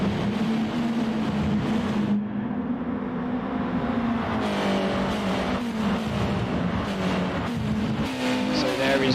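GT4 and GT2 race cars at Laguna Seca in a sim racing game, engines droning steadily with a rising and falling pitch as cars pass during a formation lap, with a voice talking over the noise.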